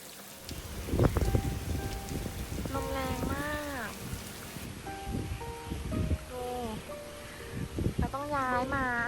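Rain patters steadily on a camping tent at a campsite by a reservoir, a soft continuous hiss running throughout, while someone talks and sings-like voiced sounds rise over it near the middle and end.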